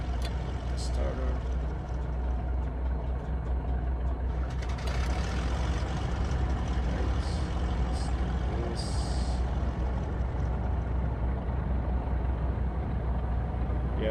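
In Microsoft Flight Simulator 2020, the right piston engine of a twin-engine plane starts beside an already running left engine, adding to a continuous deep, loud rumbling drone with brief clanks, while someone speaks briefly over it.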